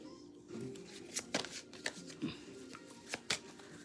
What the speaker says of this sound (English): I am going to pull a Nostradamus card from my own deck